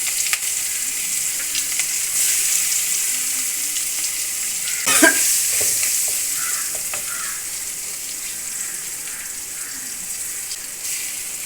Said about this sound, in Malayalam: വെളിച്ചെണ്ണ ചൂടായി കുറച്ച് കുരുമുളക് ഇട്ട്.